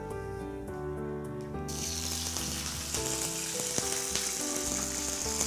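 Fennel seeds and curry leaves crackling in hot oil for a prawn dish, a steady dense sizzle that grows louder and brighter after a moment and continues unbroken, close up with no voices.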